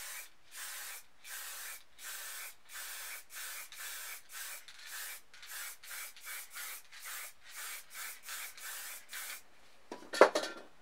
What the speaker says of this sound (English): So with hot lips, we'll just spray a bit over black.